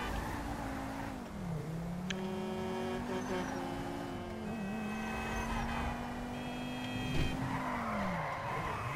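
A car in GTA Online slides on a slippery track, its engine droning steadily with long wavering tire squeals through the stretch, close and continuous.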